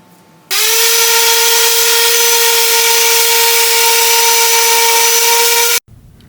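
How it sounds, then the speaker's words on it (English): A homemade automatic sanding system running: a loud, steady motor whine with a strong tonal hum that starts abruptly and cuts off after about five seconds. "I made this automatic sanding system."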